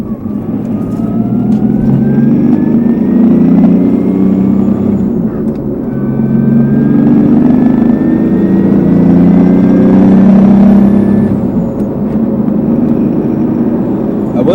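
A car engine with a swapped R154 gearbox runs loud and close through a series of quick gear changes, its pitch rising and falling with each shift.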